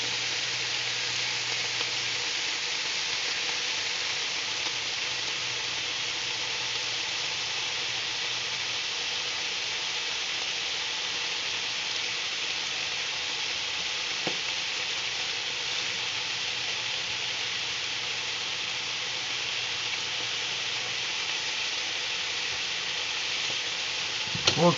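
Pork chops frying in a pan, giving a steady, even sizzle and hiss that runs without a break at a moderate level, with no talking over it.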